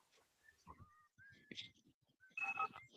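Someone whistles a few thin, wavering notes of a tune, softly and close, between quiet talking voices.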